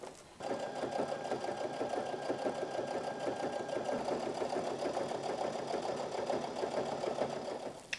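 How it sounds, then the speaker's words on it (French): A sewing machine stitching a finishing seam on a fruit and vegetable bag, running in one continuous rapid mechanical hum from start to finish, close and steady, then stopping abruptly. "je le glisse dessous et je vais coudre par-dessus pour faire la finition"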